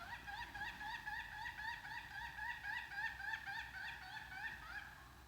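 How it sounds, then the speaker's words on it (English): An unidentified bird calling in a forest park near Victoria, British Columbia: a rapid, repeated chattering series of bright notes, steady and moderately close, running continuously over a quiet background with no talking. "I don't even know what that bird is."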